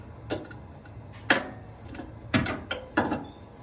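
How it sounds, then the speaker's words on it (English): A wrench tightens and locks jam nuts about an inch and an eighth across, giving a few sharp, separate metallic clicks at uneven intervals, close and moderately loud, with no talking. "Now we're gonna lock the jam nuts in place."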